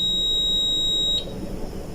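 A multimeter's continuity buzzer sounds while a MOSFET is tested: a steady, piercing high beep holds for just over a second, then cuts off, leaving faint background hiss.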